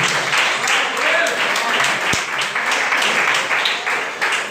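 A church congregation applauding in praise during a worship service, steady rhythmic group clapping filling the room, with voices mixed in beneath it.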